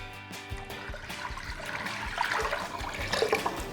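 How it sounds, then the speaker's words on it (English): Apple cider pours steadily into a wassail pot as a continuous gurgling splash that builds toward the end, with a few soft knocks at the start. "So now we can go ahead and add in the rest of our juices. So I've got 4 cups of apple cider,"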